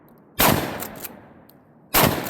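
A Benelli SuperNova Tactical 12 gauge pump shotgun fires at soda jugs outdoors, two loud, close blasts about one and a half seconds apart, each followed by a short echoing decay.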